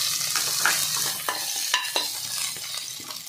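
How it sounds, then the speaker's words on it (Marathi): Green chili, garlic, onion and curry leaves sizzle in a pan for raw tomato chutney as a spoon stirs them, with a steady frying hiss and scattered scraping clinks, close and without speech. "मिरची व लसूण, 1 वाटी कांदा चांगलं मिक्स करून घ्यायचं आहे।"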